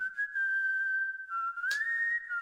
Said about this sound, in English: I love this whistle.